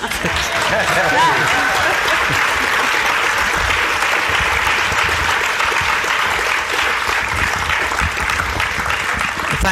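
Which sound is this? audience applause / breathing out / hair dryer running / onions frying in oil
audience applause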